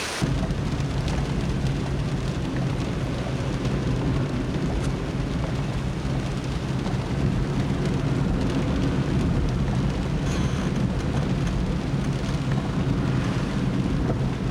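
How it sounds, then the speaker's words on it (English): Rain falls outdoors on Vancouver Island's western shore near Sooke, by a waterfall, a steady dense wash of broadband noise with low rumble, continuous and even throughout with no talking. "It's only because it's raining here."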